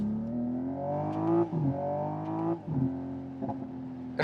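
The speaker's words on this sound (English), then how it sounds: "you let go of the throttle and you have it plop, plop, plop, plop, plop from the exhaust" An electric car's simulated engine sound hums and revs with rising and falling pitch, broken by a few sharp popping bursts from the exhaust as the throttle lifts. The car is a 2026 Hyundai IONIQ 6 N.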